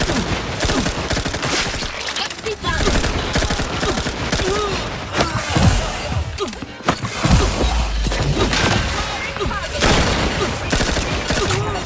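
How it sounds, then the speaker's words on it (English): Dense, continuous gunfire and bursts from The Outer Worlds 2 video game, rapid shots and crashing impacts filling the scene loudly with heavy low thumps throughout. "Target analyzed. Lay down fire."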